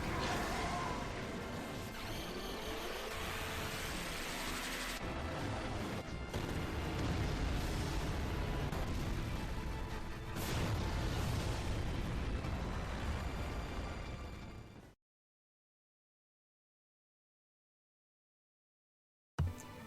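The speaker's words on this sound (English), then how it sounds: "his animation is filled with what it means to be a dragon as he soars through the sky and unleashes a powerful fiery attack" A dragon guardian force in Final Fantasy VIII unleashes a fiery attack with heavy crashing impacts and roaring explosive bursts for about fifteen seconds, then cuts to silence before a brief sharp hit at the end.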